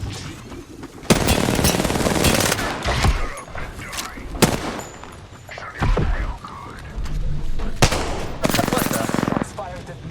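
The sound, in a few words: gunfire in Apex Legends video game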